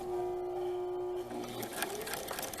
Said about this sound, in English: I'm top stitching on the right side of the fabric using thread that matches the double fold bias tape